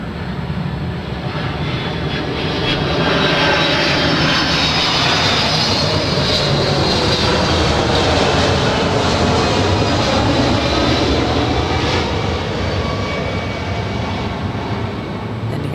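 Delta Boeing 767 jet airliner at LAX, its engines giving a loud, continuous roar that swells and holds steady throughout, close by and with no talk over it.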